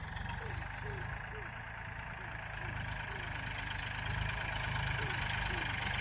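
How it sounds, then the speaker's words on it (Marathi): A tractor engine runs steadily at low, even revs in a muddy farm field, rumbling continuously at moderate distance beneath people talking. "ट्रॅक्टर रवायला लागलाय आता"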